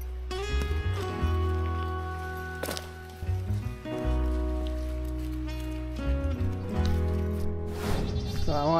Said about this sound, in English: ending our day with the goats outside to greet us